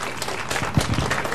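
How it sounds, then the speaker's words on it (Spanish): A crowd at an outdoor community event in Santa Ana claps for a performing Cospes Indians dance group, steady scattered applause close by. "un aplauso para él y a los indios Cospes de Tostos"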